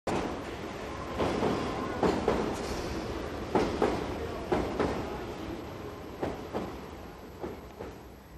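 A London Underground tube train running, with a steady rumble and repeated rhythmic clacks of wheels over rail joints, fairly close and continuous, no voices.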